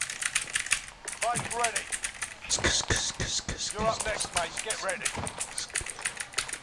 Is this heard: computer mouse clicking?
yes